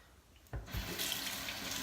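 Water gushes from a bathroom tap into a sink for rinsing after a shave, starting abruptly after a quiet moment and then running steadily and close.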